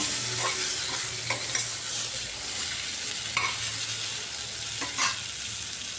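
Long-cut squash and potato pieces fry in hot oil in a pan, a steady close sizzle broken by several sharp scrapes and knocks of a spoon stirring them, with no voices.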